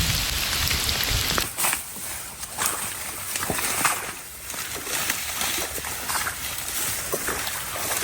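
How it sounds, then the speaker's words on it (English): Hail pelting down outdoors during a Wisconsin deer-opener hunt, a dense steady patter of icy pellets striking surfaces with scattered sharper impacts, loud and continuous with little talk. "It's hailing."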